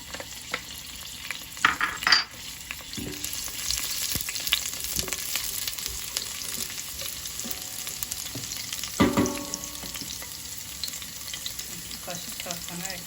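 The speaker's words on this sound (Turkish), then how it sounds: "İki kaşık yağ ekledim, sarımsak ekleyelim." Garlic fries in two spoonfuls of oil for Turkish tarhana soup, making a steady, moderate sizzle with occasional stirring scrapes and a few louder clatters, no talking.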